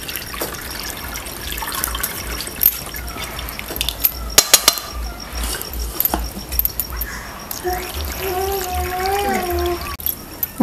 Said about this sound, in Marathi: तर आपण ह्याच्यावरती आहे ना थोडंसं गार पाणी घालूया